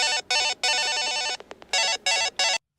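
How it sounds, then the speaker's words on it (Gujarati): A telephone rings repeatedly with no one answering. Its loud electronic warble comes in rapid bursts separated by short gaps, close and alone. "રિંગ પર રિંગ વાગી રહી છે અને આ ફોન કઈ પાડી જ નથી"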